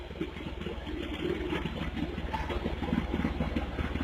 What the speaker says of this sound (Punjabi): mini tractor